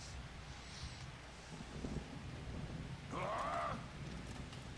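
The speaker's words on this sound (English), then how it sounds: "It was nice and sunny when the day started out, and now it's raining" Rain falls in a Blood Bowl match, a faint, steady wash of hiss and patter with soft gusty swells and no voices.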